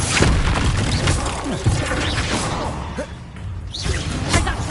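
A fire spell bursts in a Hogwarts Legacy battle, a loud whooshing blast with rumbling booms and crashing impacts, mixed with game combat effects and a voice shouting over it.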